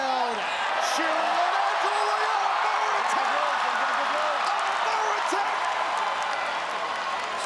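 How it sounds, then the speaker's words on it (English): A Singaporean crowd cheering at a ONE Championship fight, a broad, sustained roar of many voices filling the arena, with scattered shouts above it and a commentator talking over the noise. "The Singaporean crowd cheering."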